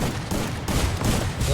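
Gunfire in the Free Fire video game rattles in dense, loud, rapid bursts that fill the whole moment without pause.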